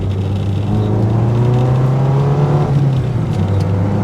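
Car with a pulling clutch accelerating from a start on a road, a loud, steady engine drone rising slightly in pitch, heard up close throughout with no talking.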